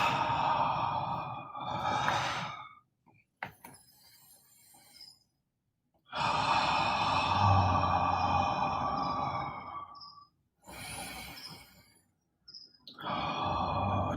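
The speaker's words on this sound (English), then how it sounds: "how do you know you're full of air until you try and inhale more" Deep meditative breaths come close and alone: long drawn inhales and slow exhales, several in turn with silent pauses between, some with a faint whistling, sighing edge.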